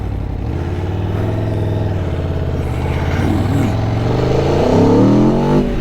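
A 2023 Aprilia Tuono V4 Factory motorcycle revs its V4 engine set to full power, a loud, close, throaty roar that swells and climbs in pitch over several seconds.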